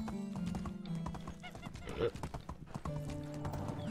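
Horse hooves clip-clopping while riding in the Medieval Dynasty game, a steady rhythmic trot with a brief whinny in the middle, running under background music and someone talking.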